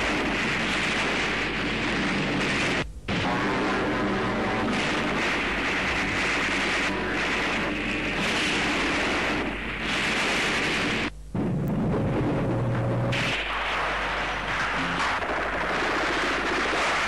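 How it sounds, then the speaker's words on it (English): Artillery fire and aerial bombardment pound continuously in dense, loud, rumbling booms and blasts, with brief gaps between heavy barrages. "the mercenaries come under endless artillery and aerial bombardment"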